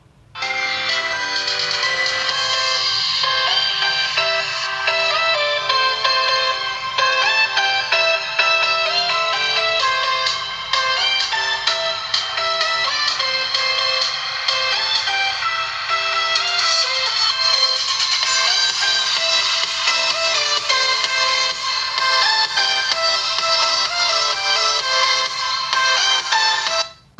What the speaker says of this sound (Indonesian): Oke, itu tadi suara dari Samsung A50.